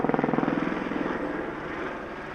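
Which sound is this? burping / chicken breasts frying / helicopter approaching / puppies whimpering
helicopter approaching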